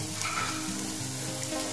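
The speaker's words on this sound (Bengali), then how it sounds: "এটার মধ্যে হাফ টমেটো দেব।" Tomato sizzles in a hot pan with onion, garlic, cashew and green chilli, a steady close frying hiss that runs without a break.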